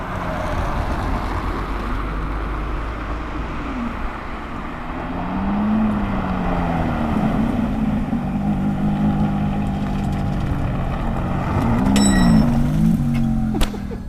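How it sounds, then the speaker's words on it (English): A Ferrari F430 engine drones loudly and steadily up close, its pitch wavering up and down as it revs, with a sharper rising note near the end as the car passes. "I'm pretty sure we're going to hear those exhausts again."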